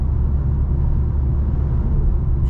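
Mercedes-AMG C43 with a 2.0 turbo four-cylinder engine accelerating from a stop: a steady, deep engine rumble heard from inside the car, close and continuous, with no talking.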